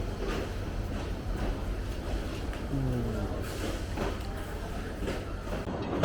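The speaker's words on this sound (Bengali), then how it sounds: "বুড়িবাড়ি express train finally Gaibandha station থেকে বের হয়ে গেল" The Burimari Express pulls out of Gaibandha station with a steady rolling rumble of rail cars and faint clatter, and people talk over the noise.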